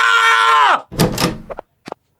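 A door bursts open forcefully in a dramatized Filipino story, arriving as a loud bang and rattle right after a sustained musical tone cuts off, followed by a couple of short knocks.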